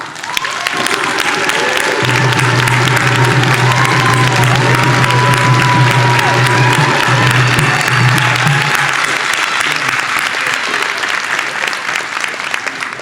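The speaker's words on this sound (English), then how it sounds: "please stand for a round of applause" Loud, sustained applause from a large college commencement crowd, steady clapping with a low hum underneath and some scattered cheers, lasting throughout.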